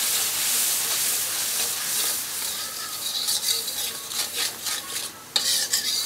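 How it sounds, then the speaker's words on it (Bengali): Salt, coriander, turmeric and chili powder sautéing in a pan for hilsa pulao, a loud hissing sizzle with steady stirring and scraping, steam hiss rising near the end, no talking. "এটা আমি ভালো মতো কষাবো এখন"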